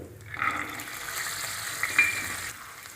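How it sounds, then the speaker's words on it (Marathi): Green peas sauté in a spoonful of oil in a kadhai wok, a soft, steady sizzle close by with faint stirring scrapes and no talk. "आता आपण मटरचे दाणे परतून घेऊ"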